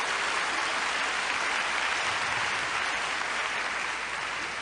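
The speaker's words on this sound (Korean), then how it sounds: "그분들을 위해서도 한번 박수를 해주시기를 바랍니다." Steady applause from a church seminar audience welcoming guests from overseas, China and Japan, a dense even wash of many hands clapping throughout at moderate loudness.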